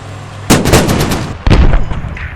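Gunfire in the video game Squad: two loud bursts of shots, close and forceful, the first ringing out for about a second before a second volley follows, with no talk over it.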